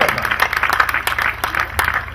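Brief audience applause at a Hindi poetry recital, scattered claps over a low hum, with some voices mixed in.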